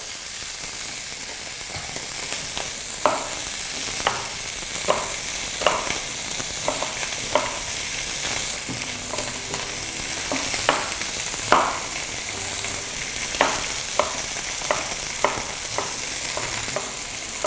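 Meat searing in a hot pan gives a steady sizzling hiss, broken by sharp clicks and scrapes as it is stirred or turned at irregular intervals.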